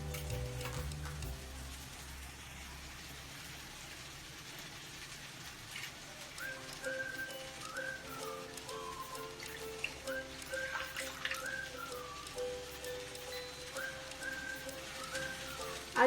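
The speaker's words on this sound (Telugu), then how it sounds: "3 కప్పులు నీళ్ళు వేస్తున్నాను." Three cups of water go into a pan on a lit stove for making undrallu dough, giving a soft continuous rushing and light sizzling wash, fairly quiet and close, with faint tonal kitchen sounds in the background and no talk.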